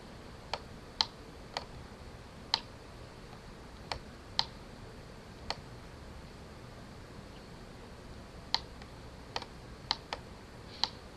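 Typing on a computer keyboard: sparse, irregular single key clicks, crisp and close, with short pauses between bursts against a quiet hiss and no talking.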